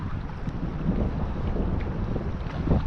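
Strong wind gusts on a fishing boat in heavy 40 mph gusts, a constant close rumbling buffet against the microphone that swells slightly, with no voices.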